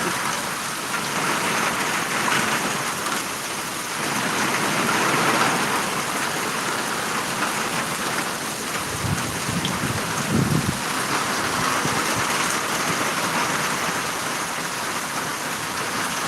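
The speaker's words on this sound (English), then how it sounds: "Here comes the rain." Heavy rain from a tropical storm in North Florida, a dense, constant hiss of downpour with a few low thumps partway through.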